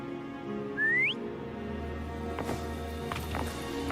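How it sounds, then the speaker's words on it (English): A single rising whistle to call a pet in the video game Wuthering Waves, short and clear near the start, followed by a quiet game ambience of soft footsteps and faint chimes. "Why don't you call Foam over? Try whistling. Like this."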